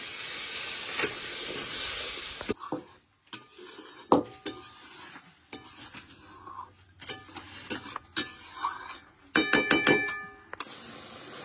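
Fried chicken being stirred in masala with a little water in a pan for desi chicken curry, a hissing sizzle broken by irregular spoon scrapes and metallic taps, close and fairly quiet, no speech.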